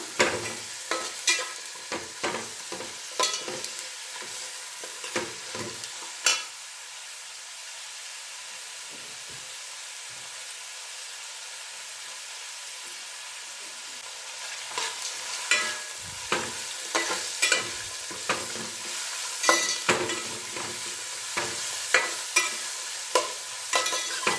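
Onion frying in a pan with a steady background sizzle and repeated sharp scraping stir strokes, which pause in the middle and then resume more busily.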